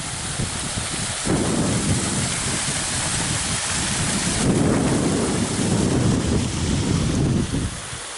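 Waterfall beside a towpath trail, a loud, broad, continuous roar of rushing water that swells slightly partway through, with wind buffeting the microphone and no voices.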